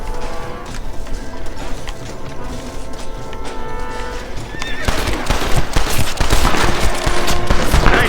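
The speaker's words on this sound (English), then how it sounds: "Nice shooting, boy." Gunfire in the video game Red Dead Redemption, with a steady crackle of shots under a musical score, swelling into a louder, denser burst of firing near the end; a horse may be heard too.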